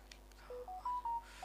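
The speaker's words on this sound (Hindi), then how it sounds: "मोबाइल का आवाज आ रहा है सर?" Mobile phone keypad tones: a run of five or six short beeps of varying pitch, clean and moderately loud over a low steady hum, with a faint click just before the sequence.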